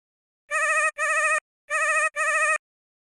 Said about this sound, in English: it's sometimes worth trying playing the sample in reverse